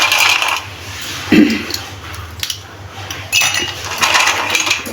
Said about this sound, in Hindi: अभी मैं डालूँगी गिलासों में बर्फ़